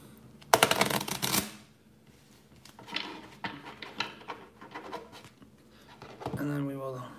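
A deck of puzzle cards is shuffled by hand in several quick riffling bursts with pauses between, close up, and a voice speaks briefly near the end.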